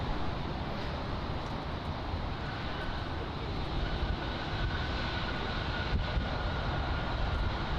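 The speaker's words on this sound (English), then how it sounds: "747-8 on the screen right now. That is going to be taking off in front of us" A Lufthansa Boeing 747-8 takes off for Frankfurt at Miami International Airport, a dense, steady roar of jet engine noise that holds at an even level throughout, with no voices.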